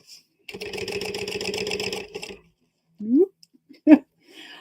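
Sewing machine stitching a 1/4 inch seam on fold-over elastic, a steady close motor whir with rapid needle ticking for about two seconds, then short squeaky bursts as the fabric is moved.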